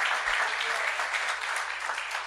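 Congregation applause at a Spanish-language church service, a steady dense wash of clapping filling the room from start to finish, with no voices over it.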